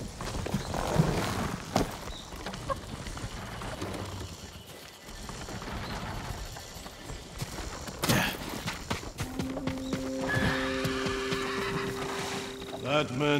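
Horses in the video game Ghost of Tsushima, with whinnies and hoof clatter mixed into a busy scene, while people talk over them and a few sharp knocks sound.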